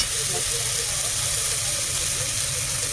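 Ground coriander, cumin and chili powder sizzle in hot oil while a fish curry with okra, potato and radish is cooked: a steady, close hiss that runs unbroken throughout.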